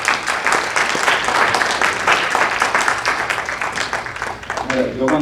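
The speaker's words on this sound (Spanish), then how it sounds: "Vamos a hacer este aplauso" Church congregation applauding during a worship service, a dense, loud wash of clapping from a large crowd that holds steady throughout, with voices mixed in.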